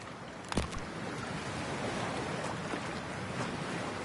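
Water in Cyberpunk 2077 washes and surges steadily with a soft splash near the start, a continuous broadband rush that stays even and moderately quiet throughout.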